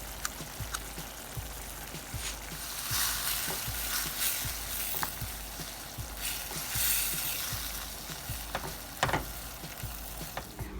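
Chicken filling for Cuban tamales cooks down in a pan, giving a soft, continuous sizzle and bubbling with light scraping stirs throughout. It is fairly quiet and close, with no talking.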